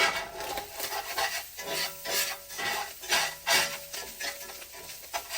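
A pan of onions, corn and beans being stirred, rhythmic scraping and rubbing strokes, likely from a wooden utensil, over a faint sizzle, close and steady with no voices.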